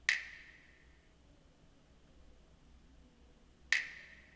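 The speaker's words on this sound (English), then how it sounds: "I used a snap. So this is a snap that I used." A crisp finger snap sample from a 2000s-style guitar R&B beat sounds twice, a sharp bright click with a short tail at the start and again about three and a half seconds later, alone over near-silence.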